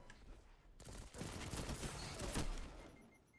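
Rapid gunfire in the video game Destiny 2, a loud burst of overlapping shots sustained for a couple of seconds before trailing off.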